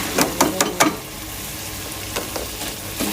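Urad dal is tipped into sizzling meat in a pot and stirred: four sharp scraping strokes close up, then a low steady sizzle with a few softer stirs.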